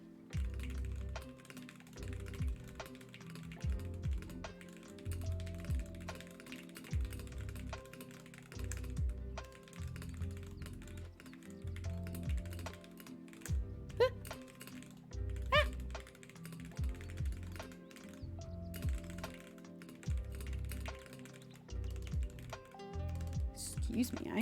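Fast, close computer-keyboard typing during a Minecraft gaming session, with bursts of quick key clicks and thunks in an uneven rhythm, fairly quiet and steady throughout.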